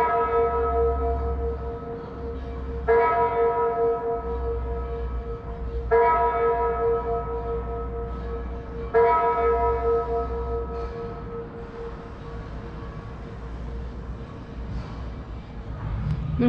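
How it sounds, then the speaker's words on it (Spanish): Church bells ring out in Alcalá de Henares, three evenly spaced strikes roughly three seconds apart, each blooming into a long resonant hum over outdoor background noise. "ahora que habéis oído las campanas"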